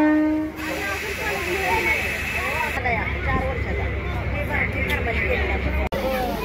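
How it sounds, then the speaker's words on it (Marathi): A train standing at a railway station, with a continuous hiss of air or steam and a low idling rumble under nearby chatter and voices of people on the platform. "गाडी स्टेशनवर थांबली आहे."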